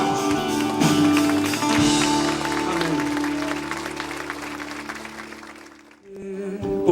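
Gospel worship night audience applauding loudly and steadily, with music and a sustained tone running beneath the clapping, fading out near the end.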